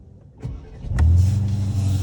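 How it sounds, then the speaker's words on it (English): A 2020 Aston Martin DBX SUV engine starts with a starter whirr, then fires into a loud, deep rumbling idle that holds steady close by. "I'm going to switch the engine on for this"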